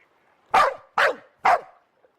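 Dog guarding a pier in the video game Dark City Amsterdam, three sharp evenly spaced barks, close and fairly loud, against near silence.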